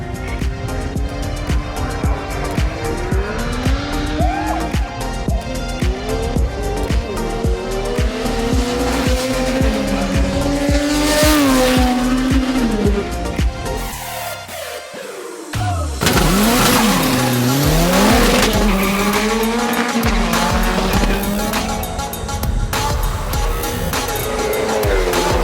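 A drag race car runs a 400-meter pass at a live event, its engine roaring loud and continuously with rising and falling pitch and tire squeal, a brief lull midway before the roar resumes.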